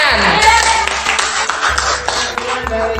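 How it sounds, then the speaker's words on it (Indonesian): Classroom applause from students in a teacher-training lesson, a few seconds of hand clapping with tonal ringing and voices mixed in. "Tepuk tangan."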